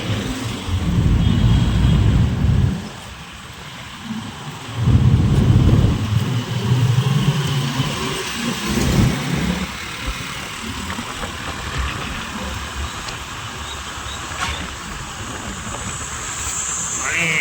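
A motorbike ride along a road produces a low engine drone and heavy wind rumble in surges, easing partway through, while people talk over the ride.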